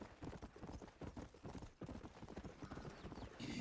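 Horse hooves clip-clop in a steady rapid rhythm while riding across a ranch in Red Dead Redemption 2, loud and continuous with no talk.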